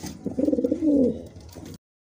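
A pigeon gives a short series of soft, throaty coos that swell into a longer rolling call and then fade. It sounds close and clear, with nothing else in the background.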